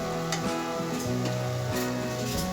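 Cassia tora leaves cooking in a covered pan, a steady soft sizzle with faint ticking and bubbling, close and continuous beneath background music.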